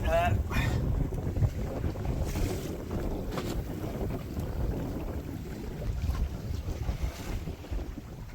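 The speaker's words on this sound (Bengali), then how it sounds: "ব্যাপক ঢেউ হচ্ছে কিন্তু" A fishing boat on a big river in the Sundarbans is tossed by heavy waves, with a steady roar of wind buffeting the microphone and continuous water wash around the hull from start to finish.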